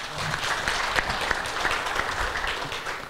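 An audience applauding to welcome a panel guest, steady clapping from a roomful of people that holds for the whole few seconds.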